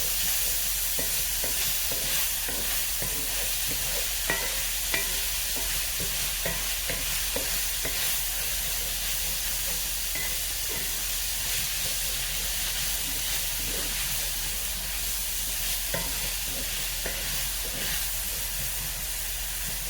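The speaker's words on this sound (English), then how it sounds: "I'm gonna saute it up in there" Garlic sautéing in a pan with turkey drippings, giving a steady, close sizzle and hiss that runs unbroken for about twenty seconds, with scattered scraping stir strokes and no voices.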